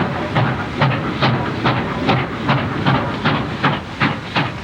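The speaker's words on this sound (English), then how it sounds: "The steam locomotive leaves the train." Superheated-steam locomotive puffing out rhythmic hissing chuffs, about two per second, loud and steady with no one talking.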